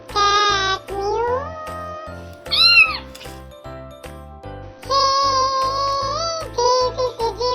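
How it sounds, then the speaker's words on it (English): A cat meows repeatedly in loud, drawn-out calls with rising and falling pitch, layered over a steady rhythmic music backing. "This is a cat. Cat mew."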